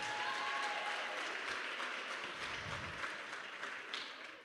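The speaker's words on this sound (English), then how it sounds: "A round of applause for our MC, guys." Youth weekend audience applauding, a fairly faint, steady wash of clapping from a crowd heard at a distance.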